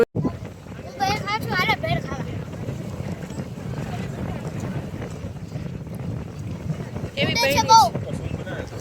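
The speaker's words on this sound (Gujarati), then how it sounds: "બહુ જ પવન છે." Strong wind at Rozi Port buffets the microphone in a low, continuous rumble, with voices talking briefly over it near the beginning and end.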